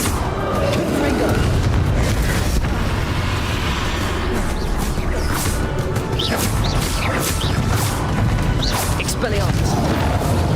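Confringo fire spell explosions in Hogwarts Legacy during combat against Ranrok, played on Nintendo Switch; dense, loud booms and crashes layered over continuous game noise, with a player's voice shouting over the action.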